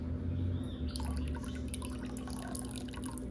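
Black liquid dye poured into a container of water, a continuous close splashing trickle with dripping, steady and alone without talk.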